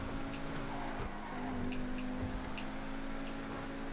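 A supercar in a racing video game time trial drives with a steady, continuous engine drone while its tyres squeal and skid through corners; no one speaks.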